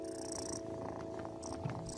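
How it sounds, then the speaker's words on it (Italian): A cat purrs in a children's video game, a soft continuous rumble under light game music with bright chiming tones, no voices present. "Sembrano fusa!"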